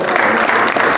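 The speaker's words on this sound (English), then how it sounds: "Let's give them a big round of applause." Steady, close applause from a crowd at a boxing weigh-in fills the whole second without a break.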